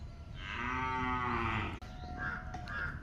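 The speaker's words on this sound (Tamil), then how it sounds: "நாங்கள் எல்லா மாடு கண்ணுக்குட்டிலாம் மாற்றி கட்ட போகிறோம் இடத்த விட்டு." Cattle on a farm low loudly, with long harmonic moos from cows and calves filling most of the stretch, then a brief drop and a couple of fainter, higher calls toward the end.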